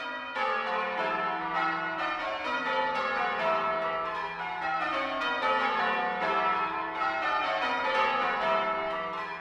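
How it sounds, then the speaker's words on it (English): Bells of St Mary's church rung by a band of bell ringers, a steady cascading sequence of overlapping tolls ringing clearly and continuously without voices. "a throng of ringers assembled to give the bells their first workout"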